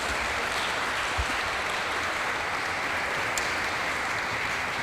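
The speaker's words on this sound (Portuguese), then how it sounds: "Quem recebe, dê uma salva de palmas para Jesus." A church congregation claps together during an evening worship service, a steady, dense wash of applause that holds evenly throughout without pause.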